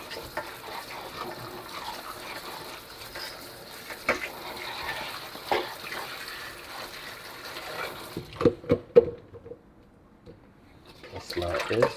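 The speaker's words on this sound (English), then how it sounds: "I have to wash the peppers them." Tap water runs steadily while peppers are washed in a kitchen for Jamaican fried chicken gravy, a continuous hiss that stops near the end, with a few knocks and clatters.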